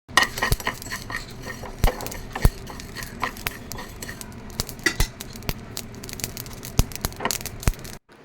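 Mustard seeds splutter and pop while roasting with fenugreek for a mango pickle, a steady crackle of sharp close pops scattered irregularly across the whole stretch, with no voices.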